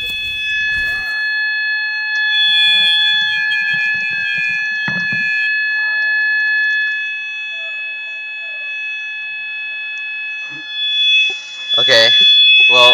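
Building fire alarm ringing without pause as a steady electronic tone, loud and constant while a player talks over it and game sounds flicker in and out.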